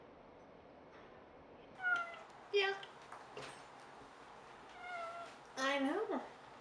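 A Munchkin cat meows repeatedly while being held close to a person's face, several drawn-out, strained cries, close and clear, with brief human talk between them.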